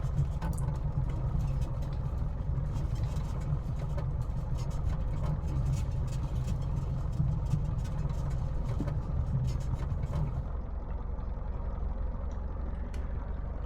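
A Caudron C430 Rafale's engine in Microsoft Flight Simulator drones steadily and low on the runway, holding a constant, fairly loud hum throughout with no talking.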